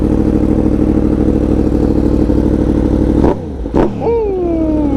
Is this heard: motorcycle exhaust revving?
yes